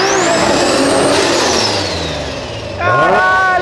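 A BMW fitted with a 2JZ engine revs hard on a city avenue, its loud engine note climbing and sweeping up, easing off, then rising again in a second throaty pull, close by with no talk over it.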